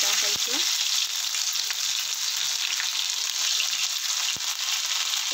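Crushed ginger and garlic fry in oil with cumin seeds for a dal tadka, a loud steady sizzle close up with a couple of sharp spoon taps against the pan.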